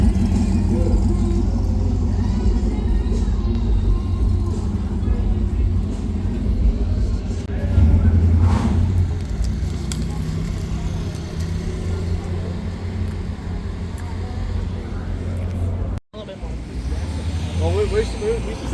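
A car engine runs steadily with a low rumble throughout, rising briefly as if revving, heard from inside the car with voices talking over it.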